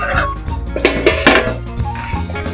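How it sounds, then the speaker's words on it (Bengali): A cooking pot's lid comes off a sour dried-mango (amshi) dish with a few close metallic clanks and knocks against the pot, then a quieter rattle. "তো এখন আমি ঢাকাটা খুলে দেখছি আমার টকটা হয়ে গেছে কিনা।"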